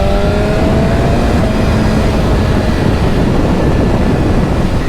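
A BMW S1000RR superbike's engine drones steadily and loudly while riding, with broadband wind roar and faint shifting engine tones throughout, no voices.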